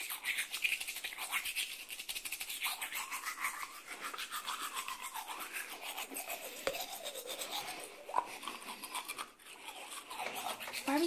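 Toothbrush bristles scrub rapidly and closely against teeth in a continuous rasping rhythm with brief pauses, heard alone without speech.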